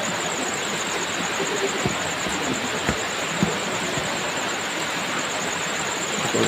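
Heavy rain pours in a dense, continuous roaring hiss, loud and unbroken, with a few faint thuds scattered through it.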